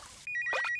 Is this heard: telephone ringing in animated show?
yes